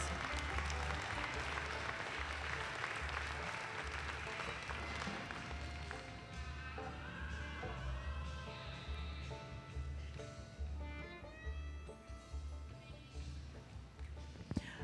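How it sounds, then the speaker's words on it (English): Audience applause in an arena during evening draft horse classes at a Percheron show, fairly quiet and fading, mixed with a low rhythmic rumble and background sounds in a large reverberant space. "Give our ladies a nice round of applause."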